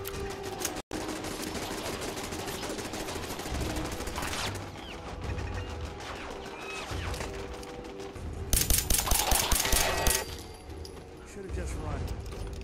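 Gunfire from a video game crackles in rapid bursts, with a louder fusillade late on, while players talk over it.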